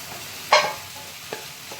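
Chili powder hits hot oil with one brief sharp sizzle and stir scrape, followed by a couple of faint stirring clicks in a quiet pan.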